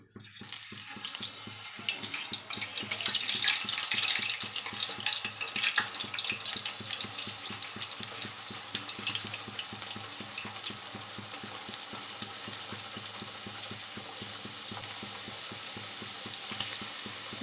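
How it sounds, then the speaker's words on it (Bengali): Sliced potatoes for chips deep-frying in very hot white oil in a wok, a steady dense crackling sizzle that swells early and then holds even and close throughout, with no voices. "এই আলুগুলো ভাজার জন্যে আমি কড়াই বসিয়ে দিয়েছি"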